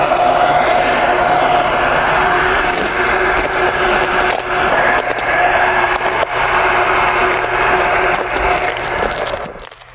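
Heat gun blowing hot air onto 3M vinyl wrap film on a car side mirror, a loud steady whooshing hum held close and unbroken for the whole stretch before cutting off at the end.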